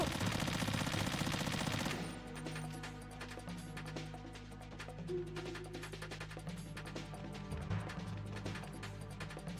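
Gunfire and a flashbang in the stealth video game Metal Gear Solid 2: a loud burst opens the clip, then rapid, sustained shots rattle on over a steady game soundscape without talk.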